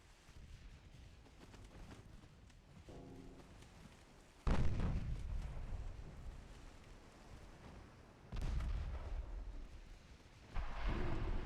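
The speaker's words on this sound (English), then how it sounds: "There we go, a torpedo hit." Torpedo hits strike warships in the naval strategy game Ultimate Admiral Dreadnoughts, two or three heavy booming blasts with rumbling tails rising over steady background battle noise.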